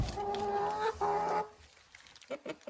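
Hens on a backyard poultry farm cluck in a loud, close burst with tonal, rising calls for over a second, then fall to sparse, quieter clucks and scratchy rustles.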